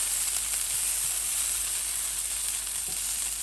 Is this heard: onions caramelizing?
yes